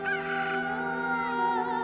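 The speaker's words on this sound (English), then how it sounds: "Immediately, while he was still speaking, the rooster crowed." A rooster crows once, close and loud, in a long harmonic call that trails off over about two seconds.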